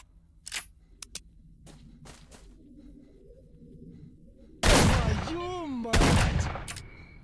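Sawed-off shotgun blasts in S.T.A.L.K.E.R.: Shadow of Chernobyl, two loud booming shots a little over a second apart near the end, after quieter clicks and game ambience.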